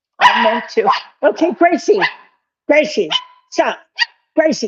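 Dog barking indoors, a run of sharp, loud yips and barks in quick bursts close to the listener, mixed with a voice speaking over it.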